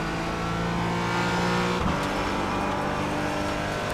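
Porsche Cayman GT4 in an iRacing session at Sonoma, its engine climbing loudly and steadily under acceleration out of a corner, with a quick gear change partway through and the pitch rising again.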